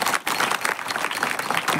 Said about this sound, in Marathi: तिघांसाठी एकदा जोरदार टाळ्या वाजवा